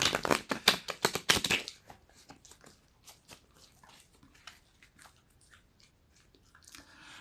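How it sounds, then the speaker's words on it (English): A deck of playing cards is shuffled up close in a quick burst of crisp riffling flutters, then quieter scattered card handling and soft taps follow. "I am shuffling these cards now"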